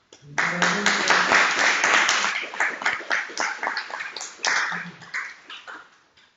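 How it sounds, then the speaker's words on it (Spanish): Workshop audience applause at the close of a session, a room of people clapping in dense, lively bursts that thin into scattered, uneven claps and taper off toward the end. "Un aplauso."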